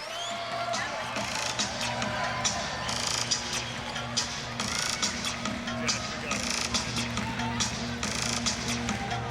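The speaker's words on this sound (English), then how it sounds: "A nice crowd on hand here tonight in the Lawler Event Center as we are set for tip-off" Steady crowd hubbub fills the Lawler Event Center before tip-off of a Nevada Wolf Pack versus LA Tech basketball game, a dense, even roar of chatter and noise running throughout beneath a commentator's voice.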